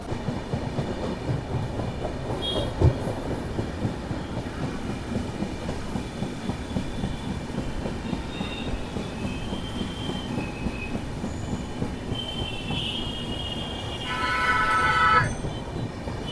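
The new LHB Paharia Express, train 15722 from NJP toward Digha, rolls along the rails with a constant rumble and rhythmic wheel clatter, plus brief metallic squeals and a louder surge near the end.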